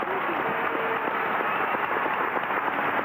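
Stadium crowd applauding Maradona during a 1997 Europe versus Rest of the World football match, a dense, steady wash of clapping and crowd noise sustained throughout at fairly loud level, with faint voices mixed in.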